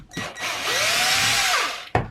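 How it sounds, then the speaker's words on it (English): A power drill bores holes at a DIY event, its motor whining up and then settling over a steady high buzz for about a second, with short tool clatter before and after. "So I drilled all these holes for nothing."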